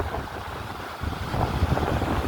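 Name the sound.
Arabian Sea waves crashing on Rock Beach, Pondicherry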